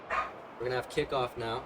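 Several short dog barks and yips sound behind a man calling a football game, coming in quick bursts between and under his words.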